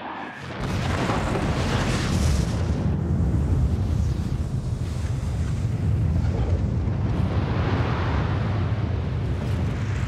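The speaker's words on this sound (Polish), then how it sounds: "Siła wybuchu wykracza poza skalę." The Castle Bravo nuclear test at Bikini Atoll, heard in a recreation, is a deep, roaring blast that rises sharply and then rumbles on continuously with wind-like turbulence, loud and sustained for several seconds.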